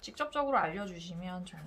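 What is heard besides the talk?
No everyday noise stands out behind the speech.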